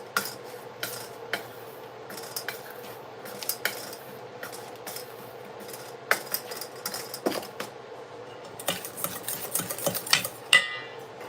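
Banana muffin dry ingredients are stirred in a bowl, with quiet scraping under repeated light clinks of a utensil against the bowl, close and steady with no talk.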